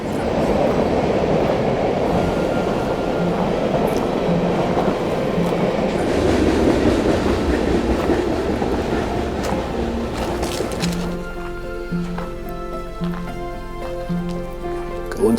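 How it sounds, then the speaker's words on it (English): Train rumbling across a bridge overhead beside a forest creek trail, a loud continuous roar and clatter heard from beneath that fades into a quieter ringing tail, with no one speaking. "We're going to walk underneath that train."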